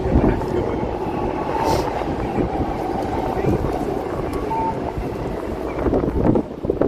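A Keihin-Tohoku line train rumbling past in Tokyo, a steady loud low roar with wind buffeting the microphone while people talk nearby.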